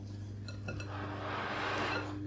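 A spatula scrapes around the sides of a bowl while mixing no-knead bread dough, with a few light clinks and a rising scraping swish, close by and without speech.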